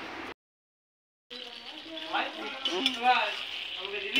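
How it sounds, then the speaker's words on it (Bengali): Potatoes frying in a pan, a steady sizzle with stirring scrapes that cuts out for about a second and then returns, with a voice speaking over it. "তো এখন আলু ভাজছে"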